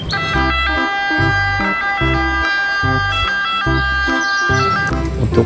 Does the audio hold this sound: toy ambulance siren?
yes